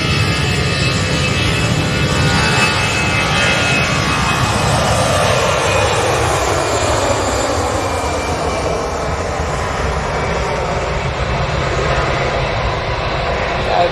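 A jet aircraft arriving at Manchester Airport produces a broad, steady roar that swells and slowly shifts in pitch, heard at a distance outdoors and continuing throughout.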